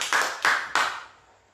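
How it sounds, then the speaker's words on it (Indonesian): Clapping during a church sermon: three sharp, loud hand claps about a third of a second apart, each trailing into room echo, then fading to quiet. "Kasih tepuk tangan dulu buat Tuhan kita."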